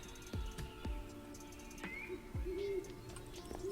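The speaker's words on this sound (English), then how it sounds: "Love the owl hoots as night fell" Soft owl-like hoots and coos drift through nighttime ambient game sound, faint and somewhat distant, mixed with a few low thumps and scattered tonal calls, with no talk.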